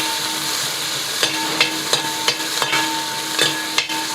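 Shallots and crushed garlic frying in oil with mustard seeds: a continuous close sizzle, with a spoon periodically scraping and clinking against the pan in an uneven rhythm.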